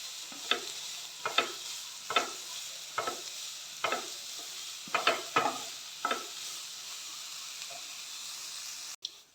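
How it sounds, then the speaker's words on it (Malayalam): Onions sautéing in a pan, with a spatula stirring them in repeated separate scrapes over a soft steady sizzle, close and fairly quiet. "നല്ലോണം വഴറ്റിയെടുക്കട്ടെ കേട്ടോ."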